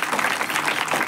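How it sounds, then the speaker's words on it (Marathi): A kirtan audience claps in a steady, moderately loud patter of many hands, continuous through the brief moment. "या संस्थेसाठी सुद्धा टाळ्या वाजवा."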